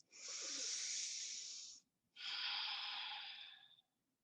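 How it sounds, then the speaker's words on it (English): Two long, deep breaths during a yoga session, each a steady hissing rush of air lasting nearly two seconds, heard close and clear with a short pause between them. "2 more breaths."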